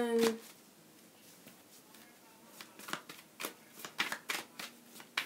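Tarot cards being shuffled in quick riffling bursts, soft and close, with brief pauses between shuffles and a faint voice near the start.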